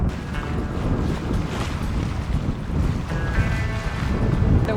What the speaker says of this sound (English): The wind's really strong, as I'm sure you can hear